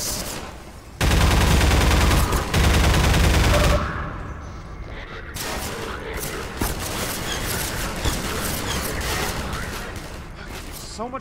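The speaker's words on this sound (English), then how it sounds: "So much gunfire coming at me," Dense bursts of rapid gunfire in Half-Life 2, loudest early on, then continuing as scattered shots and impacts over a steady background din.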